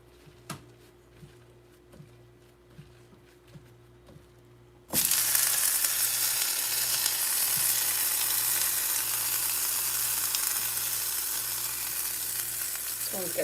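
Hot grease suddenly erupts into a loud, continuous sizzle in a pan after a stretch of quiet clicks and low hum, then keeps hissing steadily and close.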